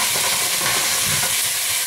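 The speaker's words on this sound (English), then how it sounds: "I'm just going to fry it anyway and then boil it." Crab pieces frying in a pan for a Mauritian crab soup, a loud, dense, steady sizzle with faint stirring scrapes, close up and with no talk.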